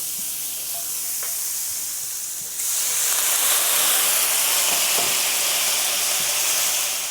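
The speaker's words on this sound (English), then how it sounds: "we're gonna add a little bit of water just to steam it up, speed up the cooking process" Steady loud sizzling and hissing from a hot pan of steak and shrimp, growing stronger partway through as water added to it makes a burst of steam with a brighter hiss that continues to the end.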